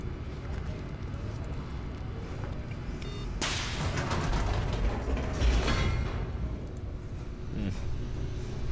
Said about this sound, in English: Guess I'll go in the elevator.